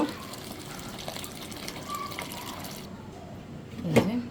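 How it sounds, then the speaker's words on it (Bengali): Hot water is poured into sautéed dal in a cooking pot, giving a low, close liquid wash that swells into a brief, fuller splash at the end, with no speech. "এখন পানি দিয়ে দিব গরম পানি দিব"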